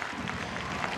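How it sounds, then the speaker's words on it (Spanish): A crowd at the Badajoz carnival parade applauds a group's choreography, a steady dense wash of clapping and cheering close by with no break. "Aplaude la gente a la que le ha gustado muchísimo esta coreografía"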